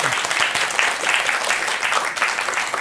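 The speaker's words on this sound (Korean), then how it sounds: "박수 한번 치자고 박수 한번" Audience at a Buddhist lecture of nearly 2,000 people applauding, a dense, steady wash of clapping that holds evenly throughout, fairly close and loud, with no voice over it.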